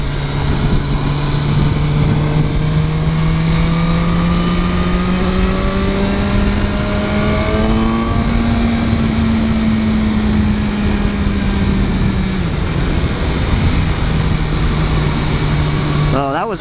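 A 2015 BMW S1000R motorcycle engine pulling hard in high gear, a loud rising drone that climbs steadily in pitch, peaks, then eases back, heard close up under strong wind rush.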